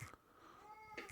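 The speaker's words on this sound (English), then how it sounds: "Sorry about the cat." A house cat meows indoors, two short cries at the start and end with a sustained whining tone in between, fairly quiet and close.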